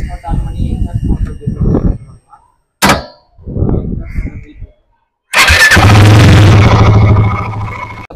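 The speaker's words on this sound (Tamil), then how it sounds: "இந்த பைக்கு எக்ஸாஸ்ட் மோட் ஆன் பண்ணி எக்ஸாஸ்ட் மோட்" A person talks briefly before a Royal Enfield Guerrilla 450 motorcycle cranks over with a short starter whine, then the engine catches and settles into a loud, close idle with a rumbling exhaust.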